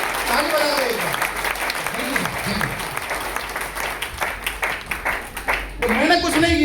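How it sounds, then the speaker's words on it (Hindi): Audience applauding at a business meeting, a steady wash of clapping throughout with a voice speaking over it in places. "एक बार दोनों भाइयों के लिए ताली बजा दो"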